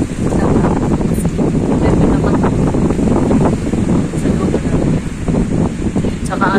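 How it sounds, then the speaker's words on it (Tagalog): Strong wind buffets the microphone outdoors near the sea, a loud, constant roar and rumble over surf, with a person talking through it. "Sobra lakas ng hangin dito."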